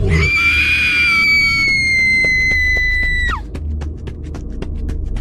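A woman screaming as she runs toward the main door of a building: one long, loud, sustained high scream that breaks off abruptly and is followed by rapid, faint repeated clicks over a low hum.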